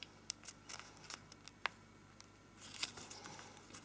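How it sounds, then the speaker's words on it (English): Origami paper being pinched and folded while making a braided Christmas star: soft crinkles with a few sharp paper snaps and rustles, close and quiet, no talking. "Pinch the paper into place."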